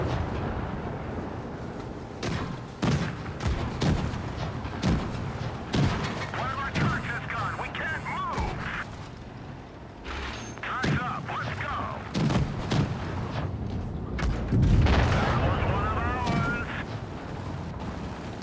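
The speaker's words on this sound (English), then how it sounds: "even some getting hit by the Deathstar's high explosive round, some are still able to survive." Repeated booming cannon shots from the Deathstar tank firing high explosive rounds in World of Tanks Blitz, sharp blasts scattered across a noisy battle with rumbling explosions, while someone narrates over the action.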